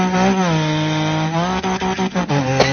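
A voice imitates a GT car engine revving, sustaining a loud, harmonic buzzing drone that rises and falls in pitch and then breaks into a few choppy stuttering bursts near the end.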